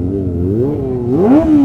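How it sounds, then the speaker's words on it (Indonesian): A four-cylinder motorcycle engine revs up close and loud during an Independence Day group ride, its pitch holding and then climbing sharply in a smooth rising whine. "digeber sama 4 silinder"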